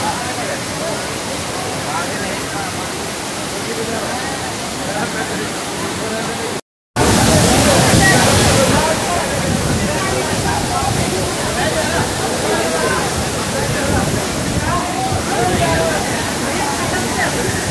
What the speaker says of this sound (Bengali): প্রচুর জল আসছে।